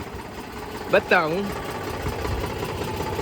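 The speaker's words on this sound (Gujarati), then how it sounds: "જોયું ટ્રેક્ટર મારી મૂકીએ" A GPS-equipped tractor engine hums steadily in a groundnut field, a mid-pitched continuous drone while someone briefly speaks over it.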